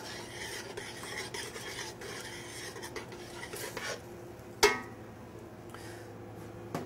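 Butter being stirred into a pasta sauce with wild mushrooms and roasted garlic in a pan, the utensil scraping and clinking softly against the metal, with one sharper clack near the end, close and quiet.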